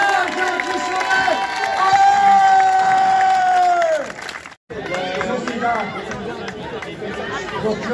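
Spectators at the finish line of the 2023 Lisieux urban trail race clap and cheer a runner crossing in second place, steady crowd noise under a loud announcer's voice, with a brief dropout midway.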